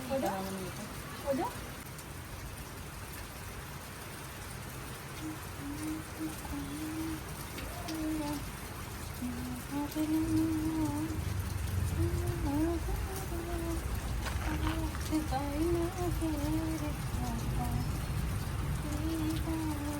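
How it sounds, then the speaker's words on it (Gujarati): Soft rain patters steadily in the background while a person talks at length over it. "હજી વરસાદ ચાલુ જ છે"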